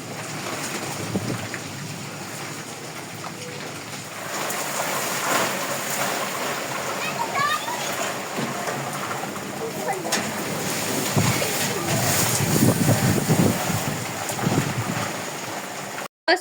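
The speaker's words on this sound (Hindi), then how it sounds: "इतनी तेज़ हवा के साथ बारिश" Rain driven by strong wind gusts, a rushing, blustery roar that swells and buffets throughout, with a voice talking over it and a sudden cut at the end.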